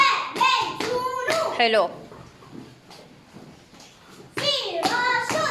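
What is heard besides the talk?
schoolchildren clapping in a classroom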